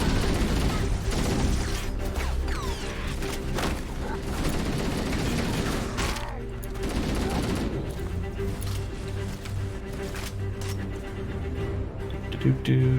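Dense Halo video game battle with sustained gunfire and plasma rounds, continuous rattling bursts and booms, loud and busy with a voice talking over the action.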